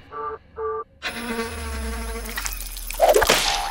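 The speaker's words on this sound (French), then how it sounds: "Ce bruit caractéristique n'annonce qu'une chose. Le moustique débarque." A mosquito whines close by in a high, steady drone that swells and wavers as it moves, after two short tonal beeps at the start.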